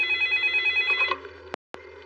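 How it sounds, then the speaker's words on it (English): A telephone bell rings in a steady repeating trill, fairly clear and close, then breaks off abruptly into a brief gap, with no talking. "a few minutes later, the phone rang"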